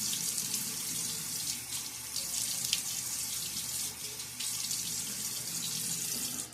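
Water runs steadily from a tap into a sink, a continuous hiss with slight fluctuations as hands move through the stream.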